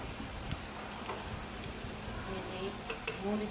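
Tomato and onion soften in a hot pan with a quiet, even sizzle, and a spoon scrapes and taps now and then; the sound is fairly faint and close, with no talking.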